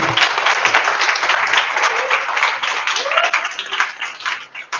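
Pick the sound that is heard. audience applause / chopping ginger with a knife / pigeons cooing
audience applause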